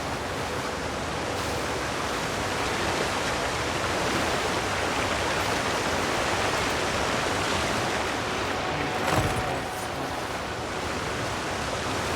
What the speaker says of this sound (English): Nothing behind the waterfall.